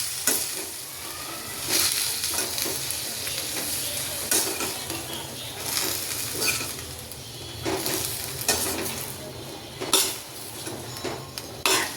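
Chopped cabbage being stirred and tossed in a cooking pan for Gujarati cabbage shaak, with a steady sizzle and repeated scrapes and clinks of a utensil against the pan, fairly close and without talk.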